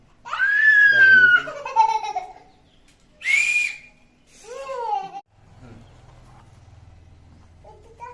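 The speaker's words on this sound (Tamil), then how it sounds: "இது ஒரு விசில் வந்திருக்கு." A small toy whistle taken from a gift box gives a shrill, wavering tone lasting about a second, followed by several shorter chirpy toots and laughter-like voices, close and loud, with quiet low hum at the end.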